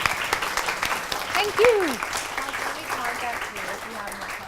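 An audience at a webinar talk gives a round of applause, a soft spread of clapping close by, while a voice speaks over it.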